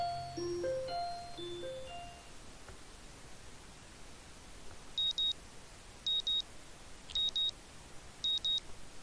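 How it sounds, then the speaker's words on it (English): After a short musical jingle, a morning alarm clock in the Katawa Shoujo video game beeps in four evenly spaced bursts of sharp double bleeps, clear against quiet background hiss. "My morning alarm goes off"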